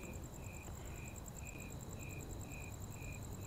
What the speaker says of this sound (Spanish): se escuchan solo los grillos